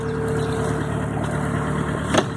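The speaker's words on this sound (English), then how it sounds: "back with the noisy engine" Noisy inboard engine of a Norfolk Broads hire cruiser, the Evesham Light 1, heard from the back deck while motoring, a close, continuous mid-pitched drone with a short clatter near the end.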